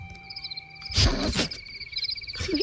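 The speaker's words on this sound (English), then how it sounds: "Crickets." Crickets chirp in a steady high trilling pattern throughout, broken by a louder rustling burst in the middle and another brief noise near the end.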